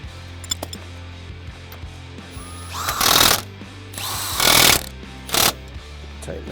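A power tool tightens the axle nut on a Polaris RZR, loud, close bursts of impact ratcheting in three separate runs, with light metallic clinks and tool handling between them.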